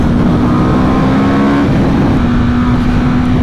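Aprilia RSV4 1100 Factory sport bike accelerating on the road, a loud steady engine drone with a shifting tone, heard close from the rider's position with heavy wind rumble and no talk.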